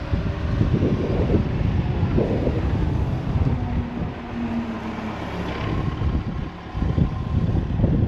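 Gusty wind buffets the microphone outdoors on a farm, a loud, continuous low rumble that swells and dips over several seconds, with no one talking.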